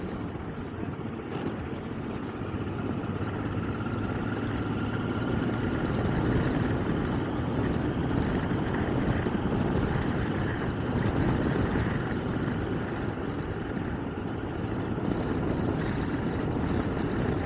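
A Honda Blackbird motorcycle fitted with twin Delkevic exhausts drones steadily at a constant engine note, a continuous low rumble mixed with wind noise, with no talking.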